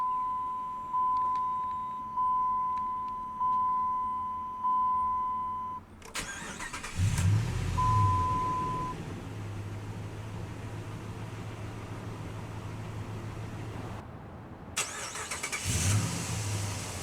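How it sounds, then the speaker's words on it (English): A 2005 Dodge Ram 1500 SLT Daytona Edition sounds a series of repeated warning chimes, then its engine cranks and catches into a loud steady idle. It cuts off briefly before a second start-up and idle. "let's go ahead and start the engine."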